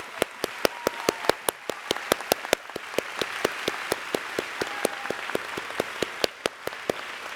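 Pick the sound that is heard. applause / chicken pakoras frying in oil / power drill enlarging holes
applause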